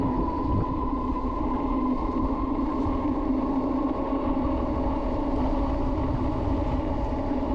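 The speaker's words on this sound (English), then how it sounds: "you can actually throttle this. It doesn't cut off at 20." Himiway C5 Ultra e-bike running at full throttle near 26 mph, a steady, loud broadband roar of wind and rolling tires with a continuous motor whine, unbroken across the whole stretch with no talk.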